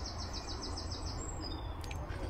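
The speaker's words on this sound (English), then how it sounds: "Birds singing and" Birds sing and chirp in the trees at an outdoor car boot sale, with a quick run of repeated high notes, faint against steady crowd and open-air background noise.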